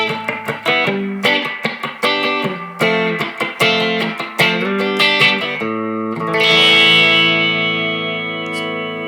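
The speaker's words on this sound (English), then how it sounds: "A little bit of chorus." Electric guitar played through an EVH 5150 Iconic Series 15W 1×10 tube combo with chorus and plate-style reverb, giving rhythmic strummed chords and then a long shimmering sustained chord that rings out loud and alone.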